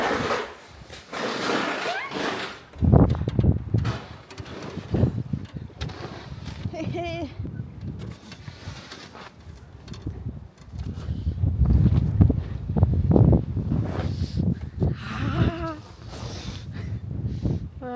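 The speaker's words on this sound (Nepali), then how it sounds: "हावा यस्तै आइरहेछ क्या हावा यस्तो" Gusty wind buffets the microphone in loud rumbling bursts while people talk and shout nearby in a snowy backyard.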